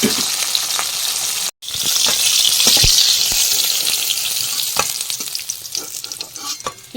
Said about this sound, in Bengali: তেলের ভিতরেই বড়িগুলো ছেড়ে দেব এই বড়িগুলো সব ভেজে নেব